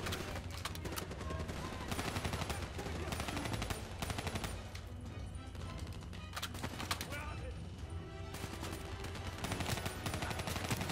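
Rapid gunfire crackles almost without pause in a Call of Duty Black Ops 3 campaign firefight, dense repeated shots layered under game sound and a voice talking.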